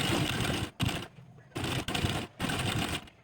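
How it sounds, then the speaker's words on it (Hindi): Sewing machine stitching blouse fabric for a princess-cut blouse, running in three loud, close bursts of rapid stitching separated by short pauses. "यहाँ से सिलाई करना चालू करेंगे"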